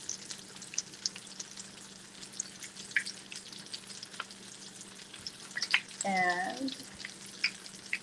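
Salmon patties fry in a pan with a soft, steady crackle and scattered spitting pops, close by and fairly quiet, with a brief voice near the end.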